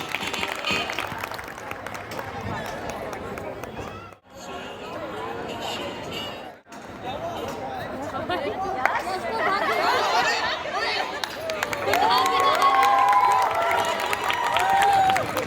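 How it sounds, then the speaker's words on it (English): Crowd clapping and cheering fill a school farewell event room, with chatter mixed in and a couple of short dips before the noise swells louder again. "Huge round of applause for Yash."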